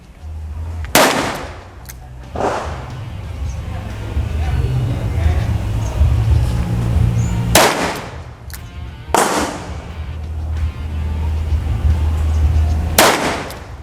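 A 2-inch revolver fires five loud, sharp shots outdoors, spaced irregularly over several seconds with steady background noise between them.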